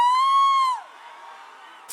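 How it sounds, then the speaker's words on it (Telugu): A crowd at the Guntur pre-release event for the film Liger lets out a loud, sustained whistle-like whoop, then a steady murmur of cheering carries on underneath, with a brief burst of noise at the very end. "గట్టిగా చప్పట్లు."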